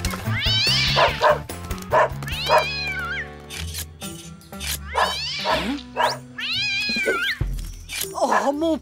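A cartoon cat from an animated children's series meows repeatedly in drawn-out, rising and falling cries, mixed with a voiced character imitating a cat and a dog's bark amid background music.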